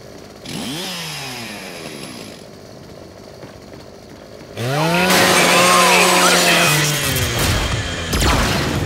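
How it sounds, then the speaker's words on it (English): Revving chainsaw bayonet on a Lancer rifle in the Gears 5 video game, loud rising and falling whines in two bursts with a brief pause between, close and dominant. "Just use your Lancer's chainsaw."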